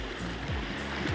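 Fast-flowing floodwater in Katihar, Bihar, rushes as a dense, continuous broadband roar with a few low surging swells, close and steady, with no voices.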